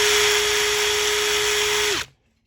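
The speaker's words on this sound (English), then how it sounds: "We've got it in the drill." An electric drill fitted with an attachment runs at a steady, loud, high whine with a constant tone, then cuts off abruptly and spins down to near silence.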